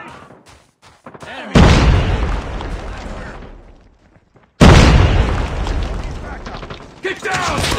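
A grenade detonates in Call of Duty Mobile with a loud, sharp boom and long rumbling tail, followed a few seconds later by a second heavy blast, while in-game voices shout callouts around the explosions.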